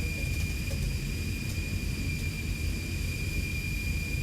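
A steady jet engine roar hums continuously with a constant high whine, even and unchanging throughout.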